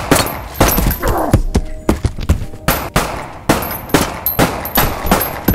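Rapid gunfire in a video game: repeated sharp shots and short automatic bursts crack loudly and close, spaced irregularly throughout with no talking over them.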